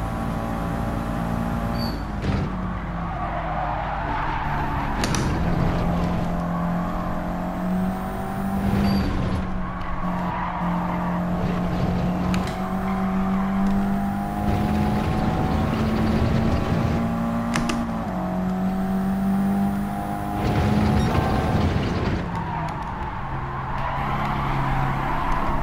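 Race cars in Gran Turismo 7 on PS5 roar through a race, engines rising and falling in pitch as they brake, corner and accelerate, with tire squeals and close passes over about 25 seconds and no talk.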